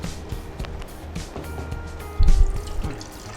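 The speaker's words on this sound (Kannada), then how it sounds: "ಚೂರು ನೀರು ಹಾಕಿ." Water pouring briefly into a cooking pan while preparing rava halbai, a short splashing gush standing out over a quiet kitchen background.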